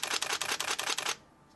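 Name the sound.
Nikon digital camera shutter firing continuously at 4 frames per second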